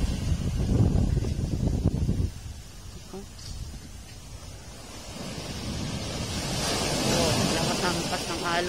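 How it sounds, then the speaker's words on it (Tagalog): Waves roll in and crash with a heavy, continuous rumble on Lamer beach, Mampang, mixed with wind buffeting the microphone, the surge swelling again toward the end. "Lakas ng alon."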